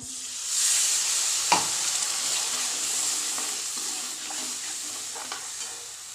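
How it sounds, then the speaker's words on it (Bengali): Spice paste with Kashmiri chilli fries in a pan for a rohu fish and winter vegetable curry, stirred as it cooks. A steady close sizzle runs throughout, broken by scattered scraping knocks of the spoon. "দিয়ে এবার নাড়িয়ে নেব খুব অল্প অল্প মশলাতেই রান্না করছি আমি"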